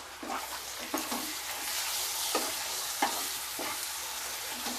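Chicken keema frying with ginger, garlic and meat masala: a constant close sizzle with repeated scraping strokes of a spatula stirring the pan at an unhurried rhythm.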